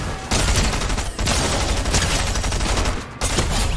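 Rapid bursts of gunfire in an online shooter game, loud continuous volleys broken by short pauses, close and dominant.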